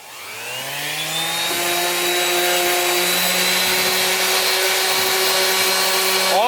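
A power tool spins up and whines steadily at high speed while scuffing a rusty car body panel during rust repair, loud and close, with a sustained droning tone and slight grinding variations.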